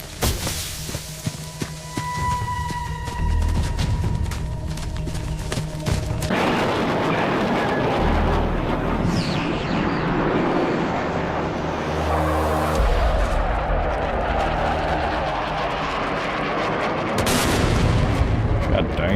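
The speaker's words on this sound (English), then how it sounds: "That was a pretty good fucking explosion for AI." An AI-generated explosion in a bodycam-style shooter, heard as loud, harsh booms and crackling blasts over a rumbling, noisy backdrop, with sharp bangs recurring through the stretch.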